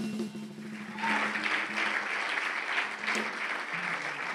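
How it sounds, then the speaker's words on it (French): A church congregation breaks into loud, sustained applause and cheering to acclaim Jesus, clapping steadily over a low held musical tone. "Est-ce qu'on peut acclamer Jésus très fort?"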